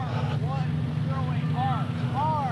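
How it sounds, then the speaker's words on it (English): A classic car idles at the Pebble Beach Concours d'Elegance with a steady, deep engine and exhaust rumble. Higher warbling chirps drift over it now and then. "where you get to hear the sounds of the engines and the exhaust"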